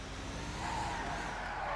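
A car drifting at full power in GTA 5, a steady loud engine roar with faint tire hiss that builds slightly, alone without talk.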